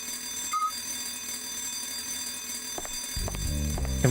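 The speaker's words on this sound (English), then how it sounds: "Now the alarm's ringing." Fire alarm bell ringing in the video game Last Window, a sustained electronic ringing tone throughout with game sound effects and a melodic chime joining near the end.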